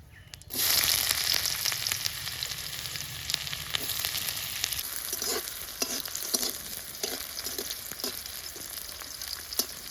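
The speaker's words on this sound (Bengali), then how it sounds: "শুকনো লঙ্কাটা লাল হয়ে গেছে, পেঁয়াজ কুচিটা দিয়ে দিব।" Chopped onion hits hot oil with dried red chili already browned in it, a bright sizzle bursting in after a brief quiet start and continuing steadily, punctuated by regular stirring scrapes.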